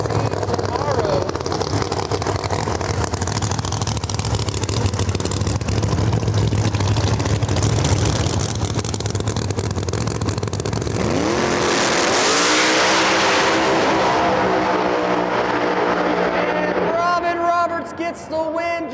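Drag racing cars at Rockingham Dragway roar loudly and continuously, one engine sound shifting into a revving, rising whine partway through, with commentators talking over the noise.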